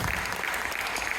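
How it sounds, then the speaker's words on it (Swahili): A church congregation applauds Jesus during a worship service, a steady dense wash of many hands clapping together, continuous and even throughout without a break. "Pigie Yesu makofi kwa roho."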